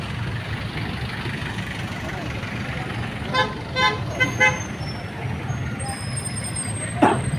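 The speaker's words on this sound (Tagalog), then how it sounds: "Kaya yung traffic talaga dito hindi maiwasan." Road traffic near a grotto church: a constant low rumble of idling trucks and cars, with several short horn toots in the middle and a sharp air-brake hiss near the end.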